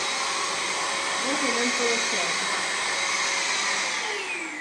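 A small 400 W Termozeta handheld vacuum cleaner runs with a steady, loud whirring hum from start to finish. Faint voice sounds come through under the motor noise.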